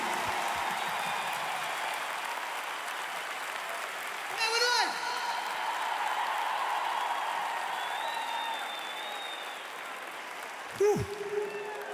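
A concert audience at the Altice Arena applauds steadily throughout, with a voice talking over the clapping at points.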